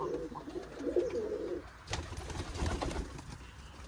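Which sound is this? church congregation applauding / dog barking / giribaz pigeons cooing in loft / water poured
giribaz pigeons cooing in loft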